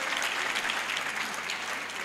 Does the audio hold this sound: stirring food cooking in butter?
no